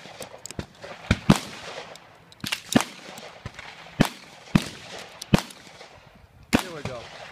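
An HK P30L pistol fires at an orange square target: about ten sharp, loud, separate reports at uneven intervals, with quieter handling noise between them.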